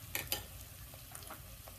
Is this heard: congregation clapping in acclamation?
no